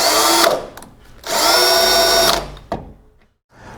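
A loud, close drill cuts out spot welds on Chevy or GMC truck sheet metal, with two sustained grinding bursts, the second longer, followed by a short squeal and a brief restart.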